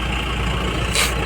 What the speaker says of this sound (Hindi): ये आ गई हमारी गाड़ी दूसरी।